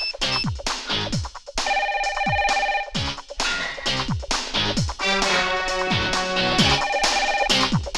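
A telephone rings repeatedly in a steady melodic pattern, loud and close, with brief pauses between bursts.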